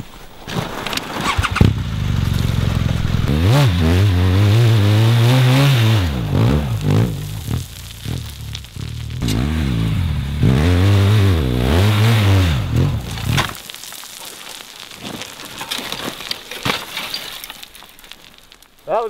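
A 2013 BMW R 1200 GS motorcycle revs hard through rising and falling engine pitches, then goes down with a sudden scraping crash as a cylinder hits the ground. Close and loud, with no talk.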